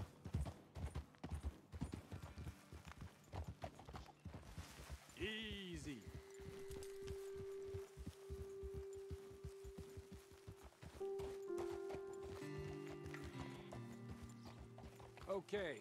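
Rapid hoofbeats of horses in Red Dead Redemption 2 clatter in a steady galloping rhythm, joined by a long sustained tone and mechanical clinks, with voices talking over it.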